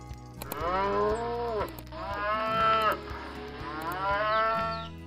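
Cattle mooing in long, drawn-out, loud calls, several overlapping lows from a herd of livestock, close by with no talking.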